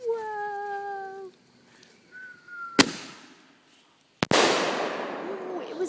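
Fireworks outdoors: a few rising whistles, then a sharp bang and a second loud burst that crackles and fizzles away, with no talk over it.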